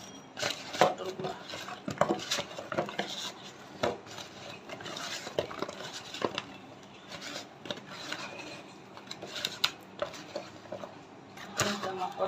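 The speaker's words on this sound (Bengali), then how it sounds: "পটলগুলো সব মাখা হয়ে গেছে" Pointed gourd pieces are mixed by hand with ground spices and a little oil in a bowl, giving repeated rubbing, squishing and clinking scrapes in an uneven rhythm, close up and moderately quiet, with no speech.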